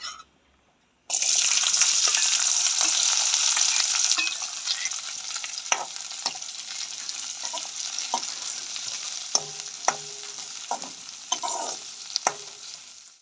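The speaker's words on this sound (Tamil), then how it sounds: "எண்ணெய் வந்து நல்லா சூடாயிட்டுது வெங்காயம் பச்சை மிளகாய் உள்ளி எல்லாத்தையும் போடுவோம்" Onions, green chillies and garlic dropped into hot oil for Jaffna-style fish curry, a sudden loud burst of sizzling that settles into steady frying, punctuated by stirring clicks and scrapes.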